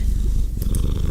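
A pet cat purrs close up in a continuous low rumbling throb, with a couple of faint high chirps near the end.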